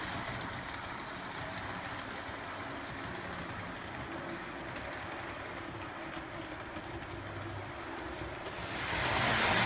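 A model RTG turbotrain set runs along its track, giving a steady low rolling rumble with faint rail clicks close by, growing louder near the end as it passes, with no talk.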